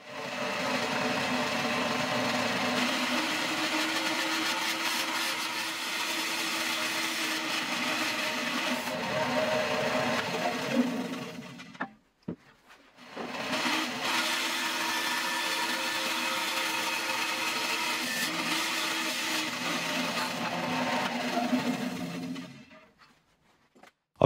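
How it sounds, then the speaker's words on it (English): A woodcutting bandsaw slices a wooden cylinder in two, a loud, steady whining roar running alone for about twelve seconds, breaking off briefly, then resuming for another ten seconds before stopping. "we'll be using the woodcutting bandsaw to do that"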